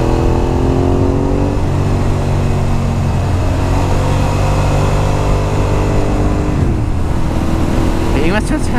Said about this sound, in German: Irgendwas hört sich halt ganz komisch an meinem Motorrad.